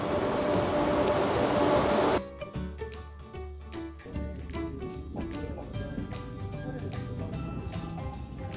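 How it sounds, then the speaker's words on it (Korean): A train pulls into Suncheon station, its loud rumbling roar and screeching wheel squeals filling the platform, with a dense wash of rolling mechanical noise close by after a steady hum at the start. "기차가 이제 막 들어오고 있어요."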